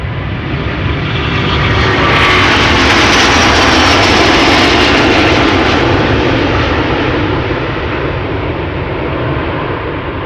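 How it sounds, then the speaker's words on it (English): Delta Airlines airliner bound for Minneapolis spools up its jet engines for departure at Amsterdam Schiphol, a loud, broad, continuous roar that swells and holds steady throughout, with no voices. "over here we have Delta Airlines flight 163 to Minneapolis, Minnesota, spooling up"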